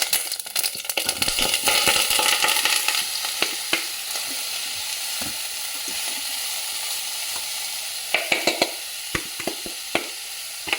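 Dense crackling sizzle of mustard seeds spluttering in hot oil, loudest at first, with sharp pops and spoon clicks scattered throughout.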